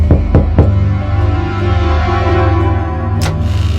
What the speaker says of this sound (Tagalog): biglang may kumatok sa pinto